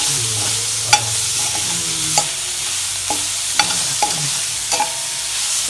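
A spoon scrapes and clacks repeatedly in a pan as onions and tomatoes sauté for a brinjal and dried-fish curry. A loud, close sizzle runs underneath the irregular stirring strokes.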